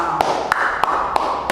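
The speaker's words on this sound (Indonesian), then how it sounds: "Ya, tepuk tangan untuk kita semua." A school class claps in unison in an even, regular beat, with five crisp collective claps standing out over a steady room murmur.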